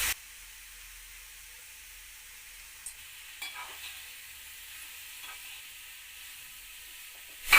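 Vegetables sauté in a kadai with salt, turmeric and red chili while a pizza topping is being made. The sizzle is soft and steady, with a few quiet stirring scrapes and no talking.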